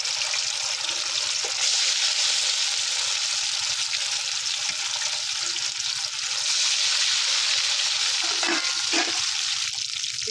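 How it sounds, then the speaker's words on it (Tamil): Steady sizzling and crackling of katta fish frying in hot oil, continuous and close, with a few brief clatters near the end. "கட்டா மீனை பொறிச்சுக்கிடுவோம்"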